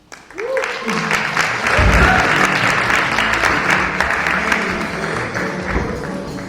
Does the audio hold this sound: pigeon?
no